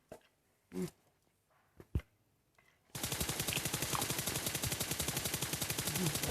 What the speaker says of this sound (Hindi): और एक बंदे काफी देर से फायरिंग कर रहा है।